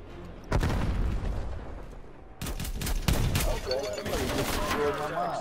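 Call of Duty Black Ops Cold War gameplay with loud, dense gunfire: rapid bursts and sharp shots packed together, with blasts and booming hits, and players talking faintly under the noise.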